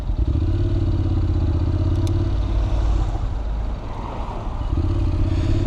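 Honda NC700X motorcycle riding along with a steady, loud low engine drone and road rumble throughout, dipping slightly in the middle before picking back up.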